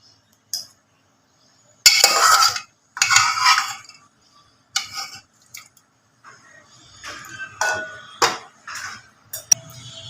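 Boiled eggs and potatoes being drained in a pot: splashing water pours out in bursts, with metallic clinks and clanks of the pot between quiet pauses, close and fairly loud.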